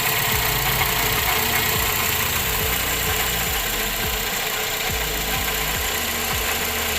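The engine of a 2011 Toyota Vios sedan idles before its water pump is replaced, with the cooling fan not yet running: a steady, close, loud rumble with a faint repeating knock-like ticking, no voices.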